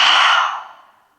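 A single long breath pushed out through the mouth at the end of a yoga session, close and fairly loud, breathy and fading smoothly away into silence.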